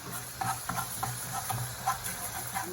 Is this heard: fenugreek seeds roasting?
yes